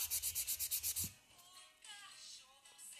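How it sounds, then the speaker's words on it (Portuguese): Close, rapid back-and-forth filing of Master Gel (polygel) nail coating from the side: about eight quick rasping strokes in a steady rhythm over one second, then a quiet pause. "Vamos limar lateralmente. Ele seca muito rápido, o Master Gel é muito fácil de limar"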